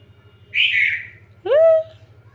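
A bird that has come into a house gives two distinct chirping calls, the second a rising, whistled tone, over a low background hum.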